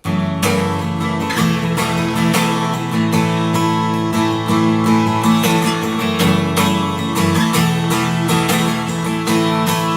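Strummed guitar playing the simple repeating chorus of a song on the top two strings, bright and steady with regular rhythmic strokes, no voices.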